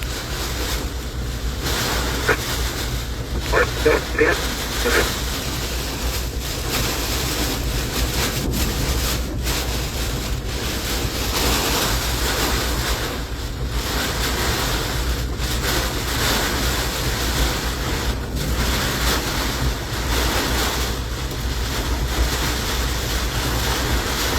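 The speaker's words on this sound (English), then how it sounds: "That was over a 57 mile per hour wind gust that just went through." Hurricane Idalia's eyewall winds near Valdosta roar in a continuous broadband rush, with gusts of over 57 mph buffeting the microphone. A few faint rattles sit beneath the roar, and no one speaks.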